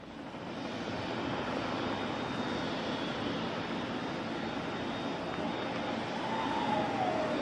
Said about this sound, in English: Space shuttle carrier aircraft with Endeavour strapped atop coming in for its landing at Ellington Field.